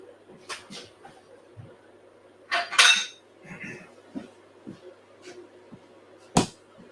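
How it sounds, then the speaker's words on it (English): A small dish is taken out and handled in a home kitchen while pasta is being made, with scattered clinks and knocks of crockery and cutlery, one bright clatter in the middle and a sharp tap near the end. "I get a little dish."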